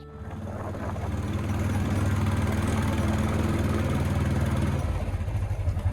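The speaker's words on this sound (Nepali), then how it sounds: "बाइकको आवाज ठुलो आएको छ बोल्दाखेरि केही सुन्दैन" A motorcycle engine runs steadily on a ride from Kathmandu toward Gaighat and Dharan, a loud close rumble with a rhythmic throb and mechanical clatter that swells slightly, then eases near the end.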